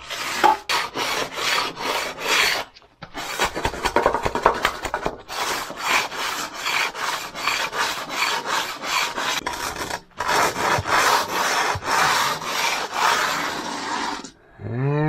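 A trowel scraping concrete paste to fill a hole in a patio, with steady, loud, rhythmic rasping strokes repeated many times and brief pauses near 3 and 10 seconds.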